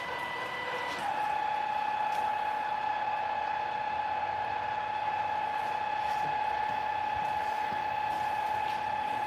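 A Maxflow M25 Pro pressure washer runs steadily while spraying a second foam coat during a live wash, giving a continuous close mechanical whine with a sustained pitched hum from start to finish, no voices over it.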